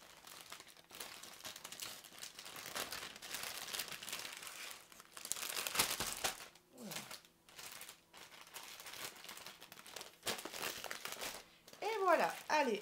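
Plastic packaging crinkles in bursts while cross-stitch threads are put away after an unboxing, with irregular rustling and crackling interrupted by short pauses. Someone speaks in French at times.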